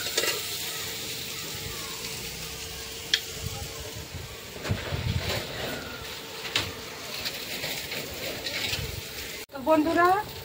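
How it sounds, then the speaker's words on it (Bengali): Onion, garlic and dried fish sizzle steadily in a hot pan, a continuous close frying hiss with occasional stirring scrapes, and a voice speaks briefly near the end. "বন্ধুরা দেখো এখানে ভাজা ভাজা হয়ে গেছে"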